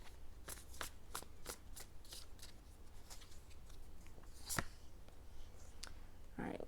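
Tarot cards being shuffled and drawn, a rapid run of crisp close card snaps and flicks, quiet, with a brief rustle near the end.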